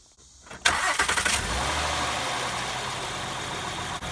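A van engine cranks briefly and catches, then settles into a steady, close idle with a rough, even rumble. There is no talking.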